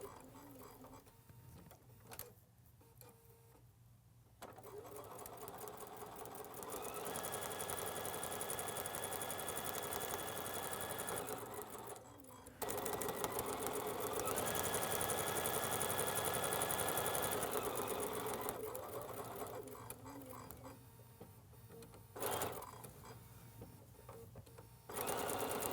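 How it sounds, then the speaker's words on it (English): A sewing machine stitches quilt fabric along marked lines, a loud continuous mechanical whir with a rapid needle rhythm, running in long bursts broken by short pauses. "So let me just go sew on those lines."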